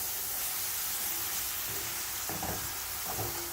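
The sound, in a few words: sauteing vegetables for rice with sardines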